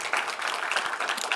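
Church congregation applauding, a brief burst of many hands clapping at once, dense and fairly close.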